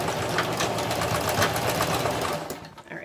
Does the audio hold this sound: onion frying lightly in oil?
no